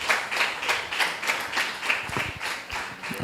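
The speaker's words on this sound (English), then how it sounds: "Please continue giving them some applause" Applause for graduating primary school pupils comes through as a steady, fairly close rhythmic clapping, almost beat-like, with some low thumps mixed in toward the end.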